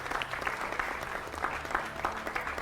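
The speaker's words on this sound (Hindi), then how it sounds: "जोरदार तालियों से इनका भी स्वागत" Studio audience applause welcoming a defense expert panelist on a Hindi TV news debate show, continuous moderate clapping with rhythmic surges, fairly distant and unaccompanied by speech.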